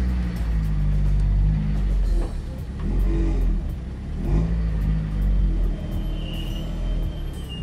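A competition car drives slowly up onto the bed of a car carrier truck. Its engine rumbles and revs in low, close surges, with a few rises in throttle as it creeps forward.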